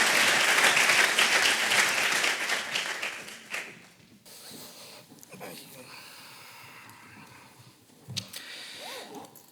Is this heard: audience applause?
yes